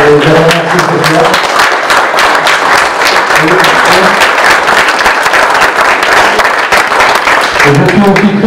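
Applause fills a council hall at a civic ceremony in Saint-Guyomard, steady dense clapping from a crowd throughout, with voices and chatter audible underneath at moments.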